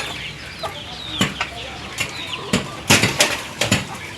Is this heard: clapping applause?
no